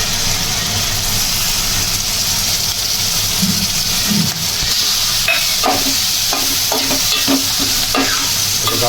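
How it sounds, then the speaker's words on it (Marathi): Oysters are stirred into a sizzling onion, tomato, chili and coriander masala in a hot pan, a steady loud frying hiss with repeated scraping clinks of the spoon against the pan in the second half. "मसाल्यामध्ये मस्त आपली कालवणा मिक्स करून घेऊ"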